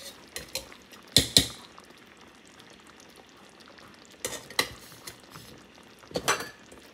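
Food stirred in ghee in a pan, three short bursts of spoon scraping and clinking against metal separated by quiet pauses with faint background sizzle.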